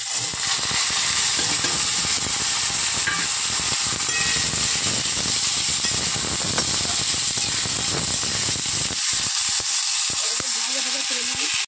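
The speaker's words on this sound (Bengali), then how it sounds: "ওলকপিটাকে এভাবে ভেজে নিয়েছি হালকা করে" Kohlrabi fries lightly in a pan with a steady, close sizzling hiss that runs throughout, and a voice is heard faintly at times.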